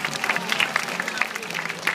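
A crowd claps steadily at a seal training show at Taronga Zoo, a dense patter of applause from many hands filling the space without pause.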